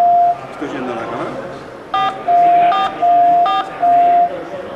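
Phone keypad DTMF tones sent to an Arduino controlling low-cost camera servos: four short, loud electronic beeps pressed in a steady sequence over a softer continuous tone, with no talking.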